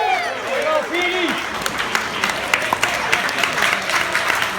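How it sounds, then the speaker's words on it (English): Wedding guests applaud the best man after his speech, a burst of clapping under a loud host's voice and crowd noise, with scattered sharper claps continuing toward the end. "Give him a big round of applause."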